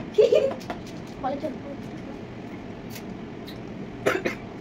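A person coughs in short bursts, first a cluster near the start, then a softer one, and another a few seconds later, against quiet room noise.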